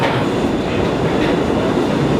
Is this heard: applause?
no